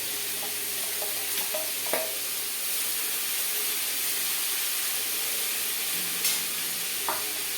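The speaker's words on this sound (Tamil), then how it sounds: "இப்போ வெந்து வடிகட்டி வச்சுருக்கிற வாழைப்பூவை நம்ம போடணும்" Boiled, drained banana flower sizzles steadily in a pan as it is stirred, a constant frying hiss with a few sharp clicks and scrapes of the utensil, no voices.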